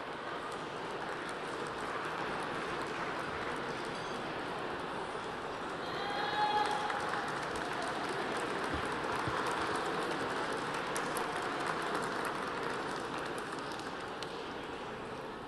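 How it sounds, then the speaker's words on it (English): A dinner audience at the Alexander Hamilton Award Dinner applauds a speaker taking the stage, a dense, steady wash of clapping that holds evenly for about fifteen seconds and swells slightly partway through. "I know what that applause means."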